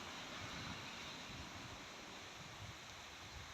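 Steady rain pours over the hills at Megamalai near a large pond, with water running downhill, forming an even, faint, continuous hiss and rush with no voices.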